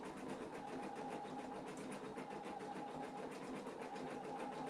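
An embroidery machine stitches a design, producing a steady, rapid mechanical rattle with a fast even pulse that stays at constant moderate loudness throughout.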